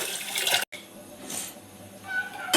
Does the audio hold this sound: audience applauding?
no